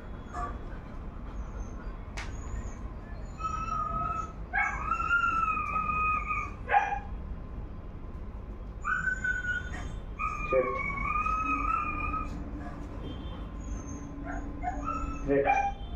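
A dog whines, howls and yips in a series of drawn-out high cries with short barks during crate training, fairly close, with a person talking underneath at times.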